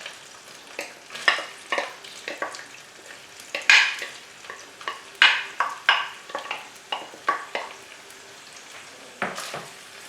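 Diced onion hitting hot fat rendered from beef mince in a lasagne pan, a steady crackling sizzle broken by repeated close stirring scrapes and spatters, with no voices.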